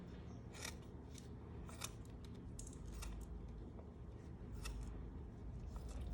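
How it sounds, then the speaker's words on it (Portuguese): Scissors snip short a Barbie doll's hair in a quick run of close, crisp cuts, irregular in rhythm and fairly quiet, with no one talking. "A gente precisa cortar o cabelo dela bem curtinho, ó."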